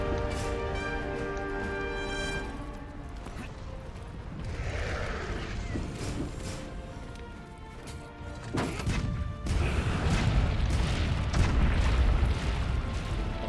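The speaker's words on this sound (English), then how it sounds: "My cannon's doing great work." Cannon fire in Monster Hunter World during the Zorah Magdaros siege, heavy booming blasts and crashing impacts over a dense game soundscape of rumble and music, growing louder toward the end.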